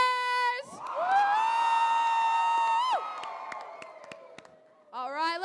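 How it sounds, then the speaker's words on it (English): A large crowd at a state leadership conference for FFA cheers and whoops loudly for team members, with a sustained roar and high shouts that fade before a voice returns. "Let's cheer loudest for the team that we think had the best moves here today."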